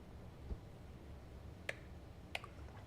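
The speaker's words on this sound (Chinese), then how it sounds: "伊有迄个咧禁电火的声呢，是送咧耍开关，有人咧耍开关哦" A few sharp, faint clicks of a light switch being flicked in the horror game The Boba Teashop, two distinct snaps spaced about a second apart over quiet background.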